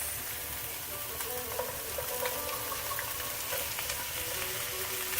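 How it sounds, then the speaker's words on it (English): Carrots tossed into a pan of cooking garlic, a dense continuous sizzle and crackle of frying close by, with faint stirring scrapes throughout and no speech. "Now we're ready to add the carrots"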